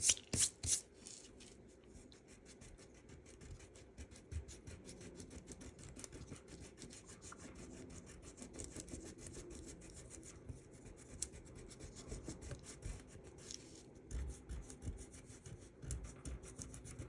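A finger or white eraser rubs masking fluid off watercolor paper in quiet, steady scratchy strokes, with a few sharper scrapes at the start and no talk.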